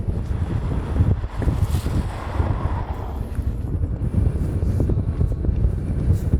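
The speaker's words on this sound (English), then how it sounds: "it's just so windy and the van's already rocking" Strong wind roars steadily against the microphone on Ireland's Atlantic coast, a loud continuous low rumble and buffeting with no let-up.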